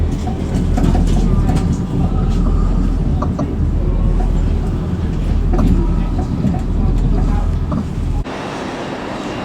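A train rumbles along with a deep, steady low drone and rattling carriage noise, heard from on board, with faint voices in the background before the sound abruptly drops away near the end.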